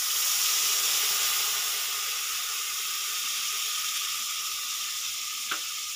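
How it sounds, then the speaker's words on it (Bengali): Wet ground spice paste of cumin, black pepper, coriander, radhuni and green chilli, mixed with water, sizzles steadily in hot oil for Bengali fish curry, a broad hiss that eases slightly, with a faint clink near the end. "সেই মশলাটা আমি জল দিয়ে নিয়েছি, নিয়ে তেলের মধ্যে দিয়ে দেবো"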